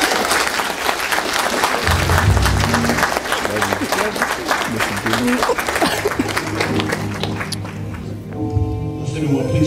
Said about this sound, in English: For the first time, give him a hand.